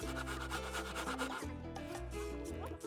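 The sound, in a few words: hand saw cutting a floor panel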